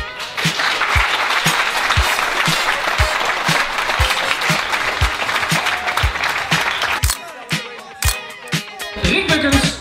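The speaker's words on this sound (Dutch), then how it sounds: "onder een luid applaus" Loud applause fills a diploma ceremony hall for havo graduates, dense clapping with regular low thumps like a beat underneath, dipping briefly near the end before rising again.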